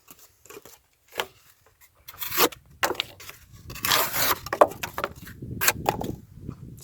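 A QSP Vault knife slices through material in a series of short, crisp cutting and scraping strokes, separated by brief quiet gaps and growing busier toward the end.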